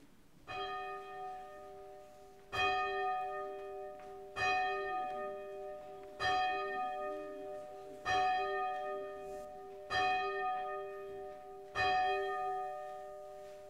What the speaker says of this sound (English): So John is going to ring the bells for us.